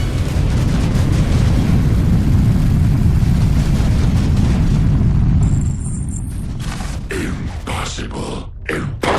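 A missile explosion in a Tempest Rising cinematic, a loud, dense roaring boom that rumbles for several seconds before thinning out into scattered sharp bursts and impacts near the end.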